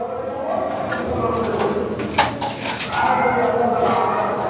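A pair of Lahori Serazi pigeons breeding in their cage coo low and steadily up close, the murmuring coos running nearly unbroken with a brief louder bump partway through.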